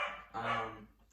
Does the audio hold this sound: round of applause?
no